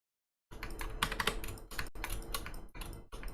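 Computer keyboard keys clatter in quick, uneven bursts while a command is entered during 3D architectural modeling, close and clear with short pauses between runs of keystrokes.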